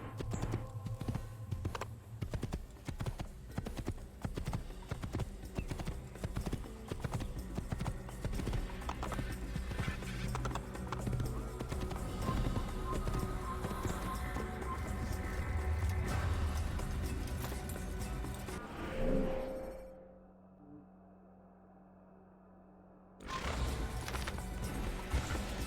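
Horse hooves clopping at a slow ride in the video game Assassin's Creed, a steady close rhythm with game ambience around it, then a brief near-silent gap before the sound resumes.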